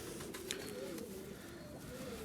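Soft, steady cooing from a Bursa tumbler pigeon, a low continuous warble held near and faint against a noisy background, with no talk over it.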